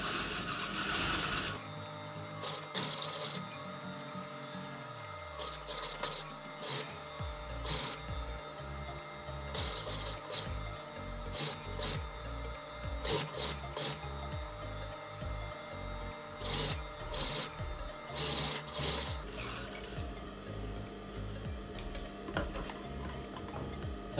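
Sewing machine stitching invisible-thread piping on a blouse, running in steady bursts with rhythmic mechanical ticking and stops between runs, close and fairly loud, with no voices.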